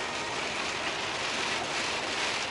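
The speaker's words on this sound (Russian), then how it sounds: "вот пошел дождь" Rain starting to fall on a truck near Moscow on a windy day, a steady broadband hiss of drops heard close and evenly for a few seconds with no speech.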